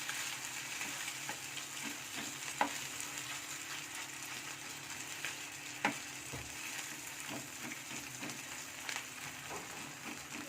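Chitrpuri, a layered Jharkhand puri, sizzles steadily in hot oil as a spoon bastes it, with a constant close frying hiss and a few sharp clinks of the spoon against the pan.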